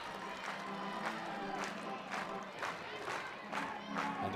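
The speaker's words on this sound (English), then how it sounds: "the crowd getting into it here in the middle innings" A crowd at an NCAA softball game between LSU and Tennessee cheers and claps steadily in the middle innings, a dense, continuous wash of voices and applause with rhythmic swells.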